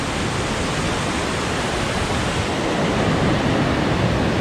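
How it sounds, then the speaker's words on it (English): Small side waterfall at Winniweta Falls on a forest hike, rushing in a steady, loud broadband roar that fills the whole clip without pause, heard up close and alone. "there's also a side little waterfall thing coming in"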